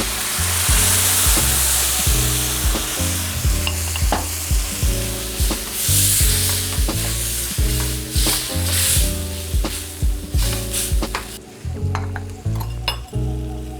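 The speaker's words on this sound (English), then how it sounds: "this has been sauteing about a minute or so since I added the garlic, the peppers, onions, and ginger" Garlic, peppers, onions and ginger sauté with a peanut butter mixture for spicy Szechuan noodles, giving a loud, steady sizzle broken by rhythmic stirring strokes and light utensil clinks close by.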